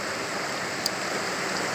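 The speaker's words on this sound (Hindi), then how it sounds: "यहाँ पर कई नालों का पानी इनमें मिल करके इतनी बड़ी स्ट्रीम हो जाता है बाबा धनसर तक पहुँचते पहुँचते" A mountain stream near Baba Dhansar temple, fed by several merging brooks, rushes steadily in a broad, even wash of flowing water, constant and close, with one brief click partway through.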